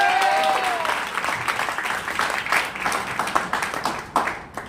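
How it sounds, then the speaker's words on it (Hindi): An audience at a leadership training session in Satna, Madhya Pradesh, claps in a sustained burst, the dense applause carrying on evenly and thinning near the end. "तो एक बार जोरदार ताली हो जाए सबके लिए"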